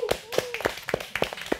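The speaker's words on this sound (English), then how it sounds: "I want to give a big round of applause." Brief scattered clapping from a studio audience at an American Cancer Society event, a few distinct sharp claps at an uneven rhythm with a voice cheering over them.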